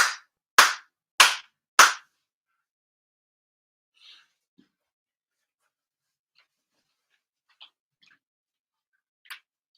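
Four sharp, evenly spaced hand claps ring out in a quiet Shinto prayer service, followed by near silence with a few faint scattered ticks and taps.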